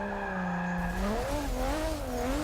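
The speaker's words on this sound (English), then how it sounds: "Those rumbles made me spin out, and I about smoked those tires." In the Forza Motorsport 6 racing game, a car spins out at Catalunya, its tires squealing in a loud wavering whine that bends up and down as the engine note shifts, with no talking.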